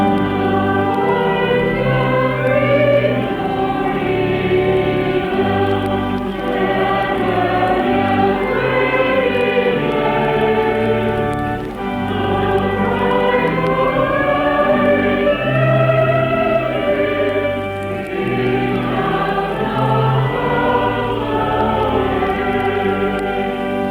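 Church organ accompanying a congregation singing a hymn, a full, loud and continuous sustained wash of organ tone and massed voices moving together through the melody without a break.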